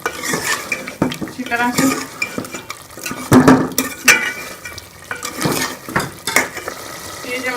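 Beef bhuna with ghee in a pot, spoon scraping and clattering against the metal in irregular bursts over a low sizzle, close and fairly loud, with someone speaking briefly.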